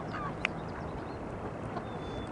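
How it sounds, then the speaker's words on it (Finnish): Common wild ducks outdoors give a few faint, scattered quacks against a quiet background hiss, with no voices. "Nyt täällä on vaan noita tavallisia sorsia"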